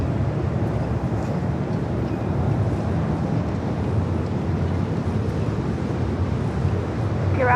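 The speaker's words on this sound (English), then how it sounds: "Sounds a little windy up there at the Edge Hotel." Steady wind buffeting a microphone on a rooftop at the Edge Hotel overlooking LAX, a continuous low roar with no breaks, like surf, filling the whole stretch.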